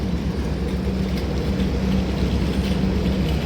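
Train halted at Castle Rock railway station on the Vasco da Gama to Secunderabad route, giving a steady low rumble and hum of the stationary train with a faint whine, continuous and moderately loud throughout.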